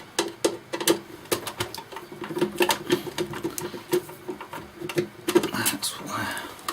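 Small screwdriver working screws out of the top cover of a Sharp VC-MH705 video cassette recorder, a busy run of close metallic clicks and scrapes with a faint voice underneath.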